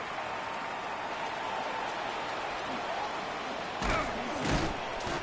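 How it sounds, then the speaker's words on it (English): Steady rain hisses across an NFL football stadium during the second half of a Chargers versus Jets game, a dense constant wash with a few thumps and crowd swells near the end. "The rain set to continue as we are underway in the second half."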